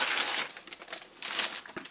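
Plastic bags holding model kit sprue frames for a Trumpeter MiG-29UB aircraft kit crinkle and rustle in short, faint handling bursts, close by.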